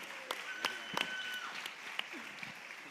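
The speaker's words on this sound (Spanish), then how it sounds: "Un aplauso." Audience applause at a local music band contest in Galicia, fairly faint and scattered, with a few sharper individual claps standing out over a thin, steady patter.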